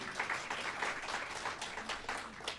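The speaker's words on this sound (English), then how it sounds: "You can clap for that." Audience clapping at a government event announcing property tax rebates for seniors, a steady moderate patter of many hands lasting a few seconds, somewhat distant and even.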